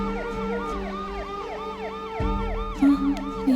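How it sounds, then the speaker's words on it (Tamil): A police vehicle siren wails in a steady repeating up-and-down pattern as it passes at moderate distance, under a low rumble. "என்ன போலீஸ் வண்டி வந்து போகுது?"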